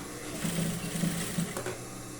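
A sewing machine stitches ribbon onto lingerie fabric in a short, steady run of fast mechanical whirring and needle clatter, close and alone.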